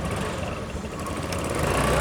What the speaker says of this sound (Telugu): 2 ఇంజన్లు డ్యూయల్ ఇంజన్ స్టార్ట్ అయితే అయిపోయింది